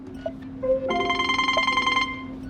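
A Ford Kuga II (2012–2019) in-car phone system plays ringtone 1, a bright electronic ringing tone lasting about a second, heard close and clear with a brief softer chime just before it.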